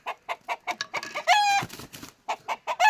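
A red rooster close by gives a string of sharp, rapid clucks broken by a short strained crow, then more clucking, with no one speaking over it.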